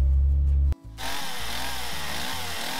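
A chainsaw idles, cuts out briefly, then revs up loud and steady as it saws through a fallen tree in the backcountry, its engine pitch wavering under load.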